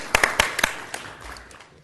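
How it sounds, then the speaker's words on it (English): A handful of sharp, separate claps at a school board meeting, five or six close hits in quick succession that trail off into quiet. "Yeah, that deserves a clap, I think so."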